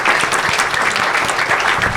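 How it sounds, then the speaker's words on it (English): An audience at a talk on local food retail claps in a steady, dense round of applause, loud and close throughout. "give yourself a massive round of applause"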